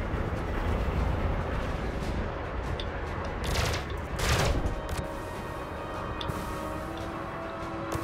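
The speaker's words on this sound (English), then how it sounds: "I'm holding the fire button down and I'm shooting like once every 3 seconds" Spaceship weapons firing in the Elite Dangerous space combat game, with bursts of gunfire-like blasts over a steady loud rumble of battle noise, a few sharper shots standing out around the middle.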